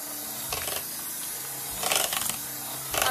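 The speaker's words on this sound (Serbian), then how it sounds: "Da uradimo i mikserom" An electric hand mixer whirs in short bursts as it beats margarine into cooled cream, each burst a few seconds long and separated by quieter pauses in a home kitchen.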